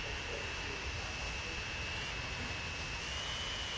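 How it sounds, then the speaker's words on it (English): Airplanes in the video game Transport Fever make a steady, loud jet roar that holds without a break. A faint high whine runs on top of the roar the whole time. "Look, all these planes coming in."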